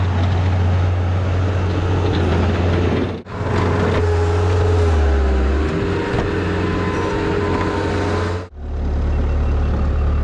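A Bobcat S130 skid loader plowing snow runs with a loud, close engine drone whose pitch rises and falls as it works, broken by two brief cuts.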